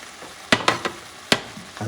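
Chicken and pork with natural seasoning stirred in a pot for Puerto Rican asopao, a soft sizzle under several sharp spoon scrapes and knocks against the pot, close and fairly quiet.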